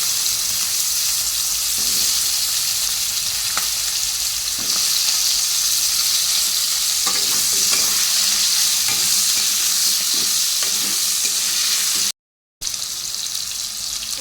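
Onion, green chilli and potato fry in a pan while being stirred, a steady loud sizzle with scraping stir strokes throughout and a brief dropout near the end; no one speaks.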